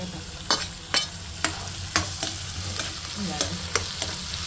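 Tomato and curry leaves fry in a pan for egg poha, with a steady sizzle under regular spatula scrapes and taps roughly every half second.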